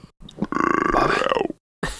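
A long, loud, throaty burp goes straight into a microphone, rumbling and pulsing for about a second between short breaths.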